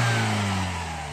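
Toyota Corolla engine with a newly fitted intake, revving up close by, with a steady harmonic hum that eases slightly toward the end of the short burst.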